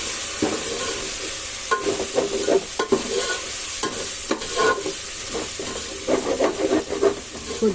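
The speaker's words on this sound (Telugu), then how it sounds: "ఓ పది నిమిషాల దాకా ఉడికించుకోవాలి మీడియంలో పెట్టుకొని ఉడికించుకోండి మధ్యలో తిప్పాలి లేదంటే ఉల్లిపాయలు మాడిపోతాము" Onions fry on medium heat in a pot for mutton biryani, a continuous close sizzle broken by repeated spoon knocks and scraping stirs against the pan.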